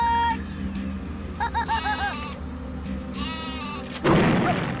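Sheep weapon in the game Worms Armageddon bleating in two short rhythmic bursts, followed by a loud booming explosion at the end.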